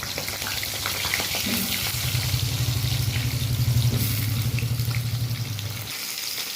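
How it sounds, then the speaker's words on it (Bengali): Potatoes sizzle and fry steadily in a small kadai, a continuous hissing crackle with a low bubbling undertone that cuts off abruptly near the end, with no talking. "এবার একটা আলুগুলো ভেজে নিতে হবে"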